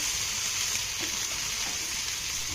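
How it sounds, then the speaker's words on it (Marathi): Onion, tomato and capsicum sauté in a pan with a steady, soft sizzle and faint stirring scrapes throughout, no voices. "आता हे सर्व साहित्य आपल्याला छान असं मौसूत होईपर्यंत परतून घ्यायचं आहे"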